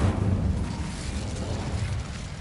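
The Incendio fire spell cast in Hogwarts Legacy, a deep whooshing burst of flame that rumbles steadily and fades slightly toward the end.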